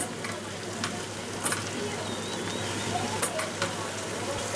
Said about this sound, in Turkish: 1-2 dakika patlıcan ve kabağı da güzelce kavurdum.